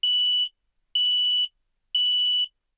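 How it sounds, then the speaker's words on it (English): Carbon monoxide alarm in a home emits three loud, evenly spaced shrill electronic beeps, each about half a second long, with silence in between and no voices. "if carbon monoxide is leaking in your home, this is what it sounds like"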